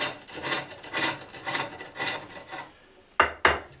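A scraper smooths the inside of a green wood bowl on a spring pole lathe, producing rhythmic rasping strokes about every half second in time with the treadle, ending with two sharp knocks.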